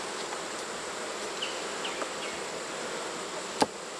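Honeybees buzz steadily around an open hive during fall hive work, a soft continuous drone with a few individual bees passing nearby and a brief sharp snap near the end.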